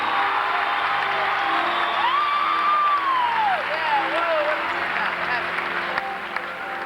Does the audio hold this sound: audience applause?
yes